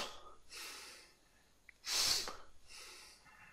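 A person demonstrates fast breathing, with a few quick, breathy inhales and exhales close to the mic, one sharper and louder than the rest.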